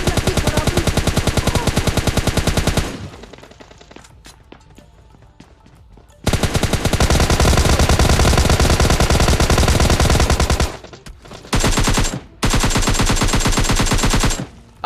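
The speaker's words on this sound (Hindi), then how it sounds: "तुम गोलियों की आवाजें सुनो" Dense video-game machine-gun fire in long sustained bursts, loud and close, broken by a quieter stretch of scattered shots and then a few short, clipped bursts near the end.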